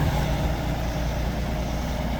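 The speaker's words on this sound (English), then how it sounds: "lorries like that can get in and get out of the land" A lorry engine idling close by on rural land in the French Chartreuse mountains, a steady, loud low rumble that holds constant throughout.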